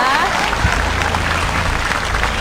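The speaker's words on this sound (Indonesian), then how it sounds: "Tepuk tangan buat tim A." A school quiz-competition audience applauds for team A with steady, dense clapping that fills the room, while a host's voice talks over it.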